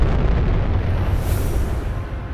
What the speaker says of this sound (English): A leaked video revealed an explosion that had destroyed the capsule.